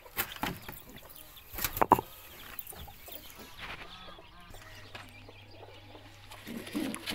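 Pigeons cooing and fluttering close by as they are let out of their coop, with scattered clucks and rustling, a low steady hum entering partway through.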